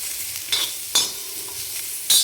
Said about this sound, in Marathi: आणि सगळ्यात शेवटी आपण आता कांदा भाजून घेणार आहोत जरा थोडासा कलर बदलेपर्यंत भाजून घ्यायचा आहे